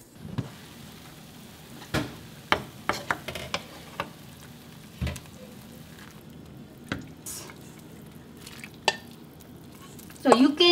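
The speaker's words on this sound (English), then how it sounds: "Let's add beef and mushroom." Beef and mushrooms tipped into a pot of spicy Korean yukgaejang soup and stirred, heard as scattered close clinks and scrapes of a utensil against the pot over a low simmering background, with no talk.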